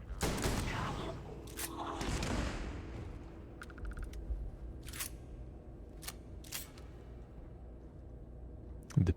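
Pistol shots ring out during a Starfield firefight, several sharp cracks spaced irregularly over a dense battle din and faint distant firing, with a brief metallic click pattern in the middle and a louder burst at the end.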